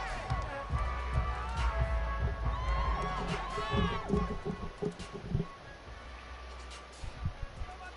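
Stadium crowd noise from a simulated Madden football game between the 49ers and the Lions, a steady roar of cheering that runs throughout, with a commentator's voice talking over it.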